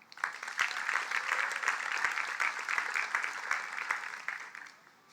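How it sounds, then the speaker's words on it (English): Sustained audience applause fills a school graduation ceremony, a steady wash of many hands clapping at moderate distance that fades out at the end. "please give her another round of applause, Ella Kent."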